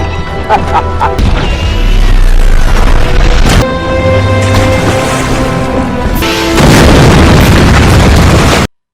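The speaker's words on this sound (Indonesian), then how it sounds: "Marius terkena meriam kapal oleh Belanda." Loud booming blasts of ship cannon fire in a film, several heavy bursts with crashing debris and rumbling, ending abruptly.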